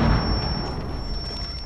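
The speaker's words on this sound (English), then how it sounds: "Throwing crack grenade." A crack grenade goes off in Rainbow Six Siege on the Consulate map, a loud, deep blast right at the start that rumbles and fades over the next second and a half.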